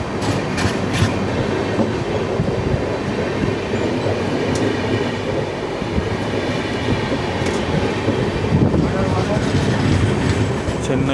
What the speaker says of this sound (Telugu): చెన్నై టు హజ్రత్ నిజాముద్దీన్ ఎక్స్ప్రెస్ ఇది.